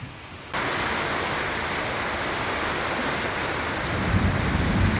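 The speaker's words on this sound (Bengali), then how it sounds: "আর বাজ পড়ছে ভয় ঘরে চলে এসছে" A heavy thunderstorm: after a brief quiet moment, dense, steady rain sets in, loud and close, with a low rumble of thunder beneath the downpour and no voices.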